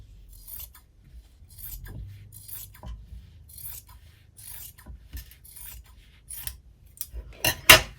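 Scissors cut a piece of fabric for a journal with a series of quiet, close, crisp snips at an unhurried rhythm, then a couple of louder cuts at the end.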